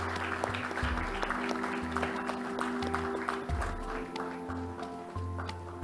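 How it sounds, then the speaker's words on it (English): Audience applause at a silver jubilee celebration stage event, a steady wash of clapping running throughout alongside low rumbling music and stage noise. "can we hear a big round of applause for our dignitaries and Team"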